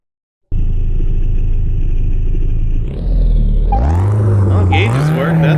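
A Subaru WRX 22B on vintage tires in a car mechanic simulator game starts up with a steady engine drone, then revs climb and rise sharply as it accelerates through the gears in a speed test, loud and close.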